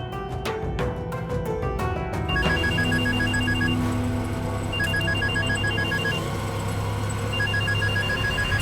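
A telephone rings in repeated electronic bursts during an outgoing call, loud and close, with a steady low hum underneath and no talking.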